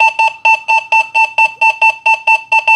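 An XP Deus 2 metal detector gives its nickel tone, a loud, solid electronic beep repeated in a fast, even pulse of about a dozen short bursts, up close and with no talking.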